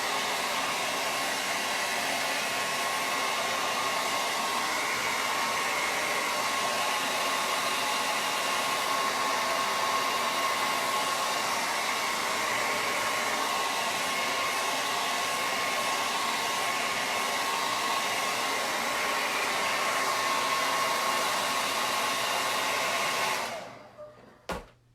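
A hair dryer blows steadily to dry black paint on a VW Bug door hanger, a loud close continuous whir that holds for the whole stretch and then cuts off abruptly near the end.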